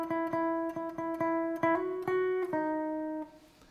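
A short run of plucked guitar notes from a guitar solo, clean and close, rising step by step before a final sustained note rings out alone.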